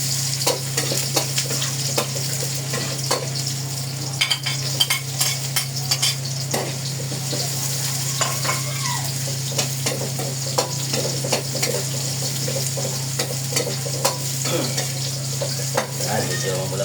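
Chopped onion and garlic fry in hot oil for beef kaldereta, a steady, close sizzle with frequent scraping stirs of a spatula against the pan, running continuously with no talking.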